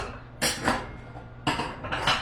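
Plates and dishes clatter in a kitchen, with two sharp bursts of clinking and scraping separated by a short pause and no talking.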